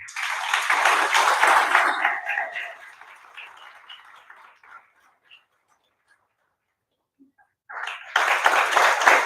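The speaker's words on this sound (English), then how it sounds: "A huge round of applause for Megha ma'am." An audience at a corporate trade event breaks into applause, loud clapping that fades out over several seconds, a short quiet gap, then a fresh burst of clapping starting up again.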